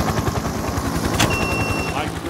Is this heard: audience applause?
no